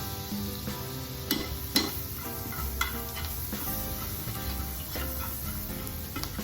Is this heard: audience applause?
no